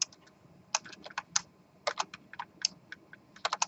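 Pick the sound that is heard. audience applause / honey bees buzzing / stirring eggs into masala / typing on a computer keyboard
typing on a computer keyboard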